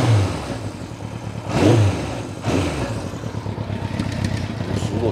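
A classic Kawasaki Z1 inline-four motorcycle engine idles with a rough, busy rumble and rises in two quick revs, loud and close, with no voices.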